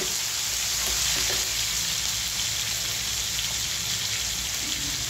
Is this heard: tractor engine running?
no